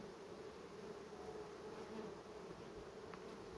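Honeybees in a weak, disorganized hive that may have lost its queen, giving off a faint, steady, low buzzing drone throughout, close by with no talk.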